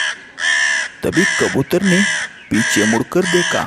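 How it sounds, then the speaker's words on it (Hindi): A cartoon crow lets out a loud, harsh caw, close and clear, and a narrator's voice follows in quick succession with brief bird calls between the lines. "वैसे ही कौवा चिल्ला उठा।"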